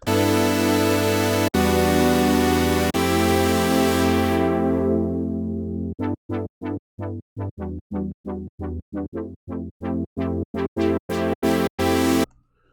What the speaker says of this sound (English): This type of Supersaw sound, is very useful in any type of musical genre that uses electronic sound.